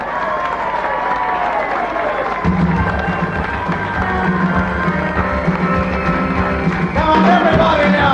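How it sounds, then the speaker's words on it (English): A crowd at a 6 o'clock rock show applauds and cheers for the band, with loud continuous clapping and whoops that swell near the end, while a voice talks over it. "Everybody now, big round of applause for the living legends!"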